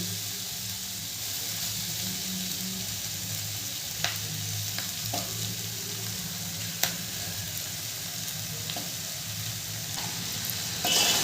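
Vegetables cooked with spices, with fried cauliflower added, sizzle steadily in a pan. A spoon stirs them and makes occasional soft scraping knocks.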